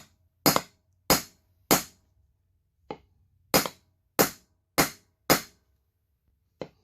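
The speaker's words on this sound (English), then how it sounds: "You just want to give it a few whacks." A hammer strikes a wood block set against a steel brushless motor shaft: eight sharp, loud whacks spaced unevenly, each decaying quickly, in an otherwise quiet garage.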